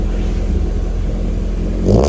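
Honda CRX HF engine droning close by in a hot garage with fans running, swelling into a short rev at the end.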